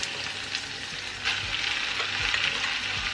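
Rice stir-fried and tossed in a hot pan for beef chao fan, sizzling steadily and close up with repeated scraping and stirring strokes and no talk.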